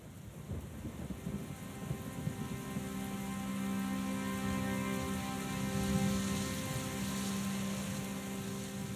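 Steady rain falls as a sound effect in a children's song, a dense even hiss with low thunder rumbling underneath, quiet and continuous, without singing.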